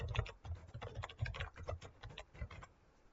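Quick, irregular bursts of soft clicks come from a computer keyboard as a short comment is typed into a spreadsheet cell, close and fairly quiet.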